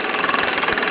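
A 1950s Mamod SE2 toy steam engine, the raised-base model, runs and slows slightly under load while driving a Mamod workshop, giving a steady, close, busy mechanical chuffing and whirring hum with no talk.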